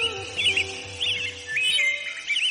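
A pigeon calls out loudly in a string of sharp, chirping cries that repeat in about four bursts over a soft background.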